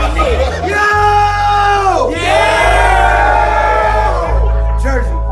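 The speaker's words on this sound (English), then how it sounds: "So everybody make some noise for that." A loud crowd at a rap battle event in Atlanta cheers, whoops and yells continuously throughout, with shouted voices rising above the roar.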